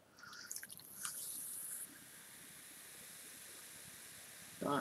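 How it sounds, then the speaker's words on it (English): Coke pours from a big bottle into a glass with a quiet fizzing hiss for the first couple of seconds. A faint background hum follows, and a short louder noise comes at the very end. "So here's about pouring a glass"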